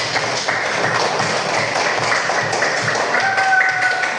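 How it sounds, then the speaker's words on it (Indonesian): Children clapping together in a classroom, a dense, steady patter of hands filling the room. "Tepuk tangan lagi untuk anak-anak semuanya"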